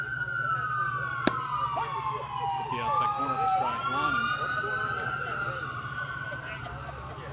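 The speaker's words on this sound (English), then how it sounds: "Police and ambulance, all kinds of emergency, something going on." Police and ambulance sirens wail and sweep in pitch as they pass near a junior Legion baseball game, loud and continuous throughout, with a play-by-play announcer talking over them.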